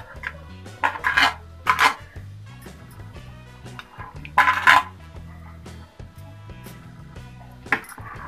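Chopped onion and coconut are mixed into adai batter in a metal vessel, with irregular bursts of clinking and scraping of a spoon against the pot between quieter stretches.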